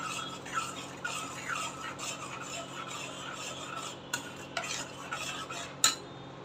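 Curry-leaf paste being stirred and sautéed in hot oil, a continuous gritty scraping and rubbing of a spatula in the pan with a few sharper metallic taps near the end, over a faint sizzle.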